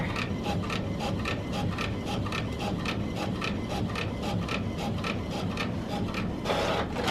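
A printer running a double-sided job, pulling the sheet back and flipping it to print the other side, gives steady, rhythmic mechanical strokes repeating close by with no talking.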